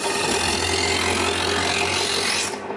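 A knife drawn through the sharpener slot on the back of a Kenwood CO606 electric can opener, a single continuous gritty scraping rasp with a motor hum beneath, cutting off at the end.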